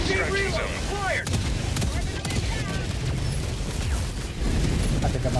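Orbital strike in Helldivers 2, a dense barrage of loud overlapping blasts and heavy impacts rolling continuously, with whistling descending tones and radio-style voices woven through the battle noise.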